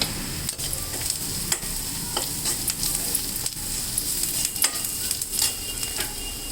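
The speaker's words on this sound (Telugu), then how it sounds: "ఇవి కాస్త వేగాలి." Onions, turmeric and chili powder frying in a pan for a kondapindi leaf fry, a steady close sizzle with repeated scraping stirs throughout and no talk.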